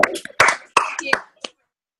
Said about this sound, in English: Let's give Lisa and Brad a massive round of applause for that training so far